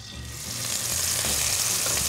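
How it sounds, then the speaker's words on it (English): Pork sausage patties sizzle and fry in a pan, a steady bright crackling hiss that swells slightly, close and alone without talking. "A nice little sizzle."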